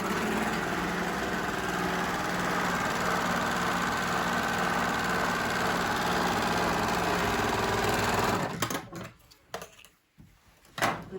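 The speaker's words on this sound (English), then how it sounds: "With a serger, it's just all done in one go." A serger sewing machine stitching along trouser fabric, a loud steady mechanical whirring hum for about eight seconds, then stopping, followed by a few faint handling noises.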